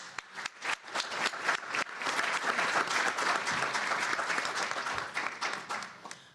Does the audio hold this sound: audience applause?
yes